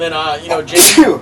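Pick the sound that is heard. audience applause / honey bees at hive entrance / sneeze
sneeze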